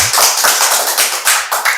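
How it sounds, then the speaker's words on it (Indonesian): Loud, dense applause from a podcast studio audience, many hands clapping steadily in irregular bursts with no talk over it, close and filling the room. "Tepuk tangan dulu."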